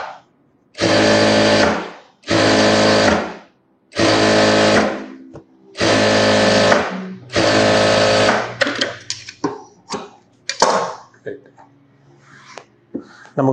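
A tailor's sewing machine stitches a sleeveless model blouse in five loud, close runs of steady whirring, each a second or two long with short pauses between. Scattered handling noises and some talk follow.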